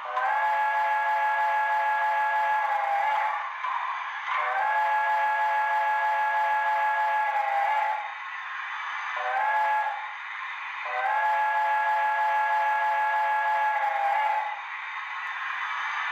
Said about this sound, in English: the whistle is somewhat quillable if you hold it for a while